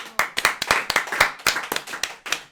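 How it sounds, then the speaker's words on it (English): Applause wraps up a podcast episode: a small group claps in distinct, uneven bursts, close and fairly loud, with short gaps between rounds of claps. "Round of applause."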